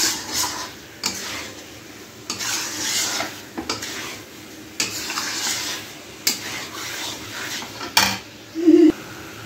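Ginger, garlic and onion paste stir-fried in a pan for Mughlai chicken handi: repeated rhythmic spatula scrapes and knocks on metal over a low, steady sizzle, close up.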